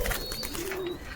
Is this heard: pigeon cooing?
yes